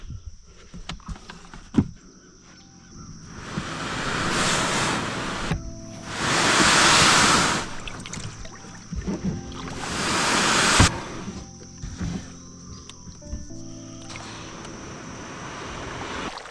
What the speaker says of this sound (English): So yeah, let's get paddling.